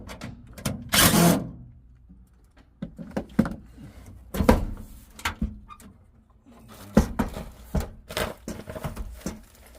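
A furnace access door panel is taken off: close metallic clanks, scrapes and rattles in irregular bursts with quiet pauses between.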